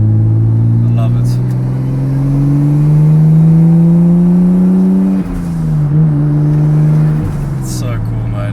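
An RB25-swapped Nissan 200SX cruising slowly, its engine a steady low drone that climbs gently through the rev range before dropping at a gear change, heard from inside the car.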